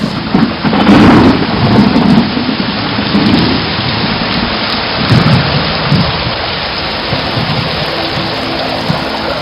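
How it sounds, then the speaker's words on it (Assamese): Thunderstorm effect for a radio drama: heavy rain pours steadily with gusting wind, while deep rolls of thunder rumble in near the start and again around the middle, loud and continuous throughout with no voices. "বতাহ বৰষুণৰ উগ্ৰতা ক্ৰমাৎ বাঢ়ি গৈছে।"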